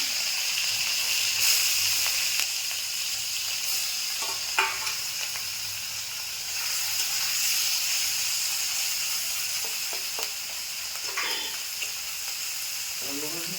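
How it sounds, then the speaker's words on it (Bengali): Continuous loud sizzling and hissing of oil as small puti fish fry in a pan, with occasional scrapes and taps as the fish are moved around. "মাছটা ভাজা হয়ে গেছে"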